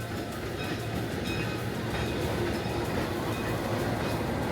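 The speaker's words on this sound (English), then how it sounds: "Now we're boarding one of the most unique train rides in the world, the train to Machu Picchu." A passenger train on the line to Machu Picchu in Peru rumbles along with a steady, moderately loud rolling roar and faint rail clatter, no voices.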